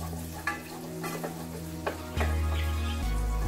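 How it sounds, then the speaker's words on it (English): Butter melting in a hot pan for a chicken pot pie filling gives off a steady, soft sizzle, with a few faint scrapes and clicks over a constant low hum. No one speaks. "The butter has to be melted thoroughly."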